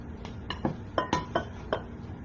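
Small spatulas mixing keto waffle batter with cocoa in a bowl: a series of about eight light, close clinks and scrapes against the bowl in an uneven rhythm, quiet with no talking.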